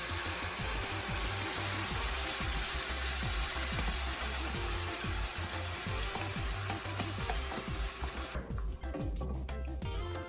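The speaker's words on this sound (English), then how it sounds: "I'm gonna go ahead and add my 4-cheese Alfredo sauce right now into my pot." Four-cheese Alfredo sauce poured into a hot pot gives a steady, close sizzle and bubbling with rhythmic stirring scrapes throughout, changing near the end to a brief clatter.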